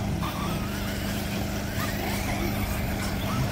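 Electric RC truggies racing at a club sand-track event, heard as a continuous dense whine and rumble of small motors and tires from a short distance, steady and unbroken, with crowd noise faintly mixed in.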